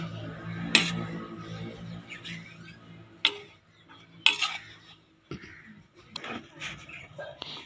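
Roasted flour for rice halwa being moved from a wok into another pot, giving a few sharp metallic clinks and scrapes of utensil on cookware amid low kitchen background, with a voice talking.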